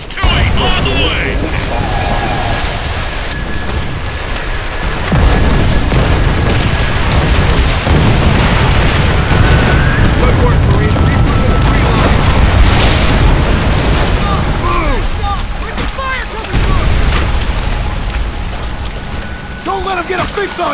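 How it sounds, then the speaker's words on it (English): Rocket strike explosions in the video game Call of Duty: World at War roll as loud, dense booms and rumbling blasts over a beach battle, with shouted voices and radio chatter mixed in. "That rocket strike should have softened them up!"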